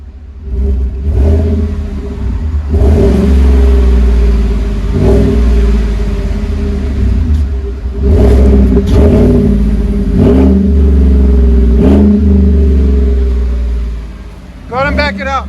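A 2018 GMC Sierra Z71 with the 5.3L V8 and a Flowmaster 40 exhaust revs in repeated loud, close blips, each rising and falling back to a deep idle, with people talking in between.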